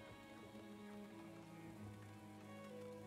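Rain patters steadily and softly in the Farthest Frontier game, a continuous hiss of drops mixed under a quiet musical drone with no speech.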